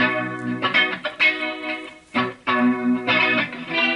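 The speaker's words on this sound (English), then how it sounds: "I'm also using the Strymon Lex. And the Strymon Blue Sky, I think, for a little reverb." Electric guitar played through Strymon Lex, BlueSky reverb and Dig delay pedals: clean sustained chords ring out in several swelling phrases with brief gaps, close and alone, with lush modulated shimmer.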